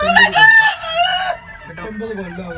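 A native rooster crows loudly and close by, followed by softer clucking from native chickens nearby.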